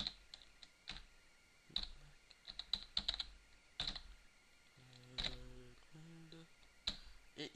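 Sparse computer keyboard typing while entering HTML code, isolated clicks and short bursts of keystrokes, fairly quiet, with faint tonal beeps midway.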